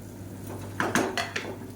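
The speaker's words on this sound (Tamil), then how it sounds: "சேர்த்துட்டு நல்லா கலந்து விட்டுக்கலாம்." Soaked jeera samba rice is stirred in a pressure cooker, with a few close, sharp metallic scrapes and clinks of a spoon against the pot.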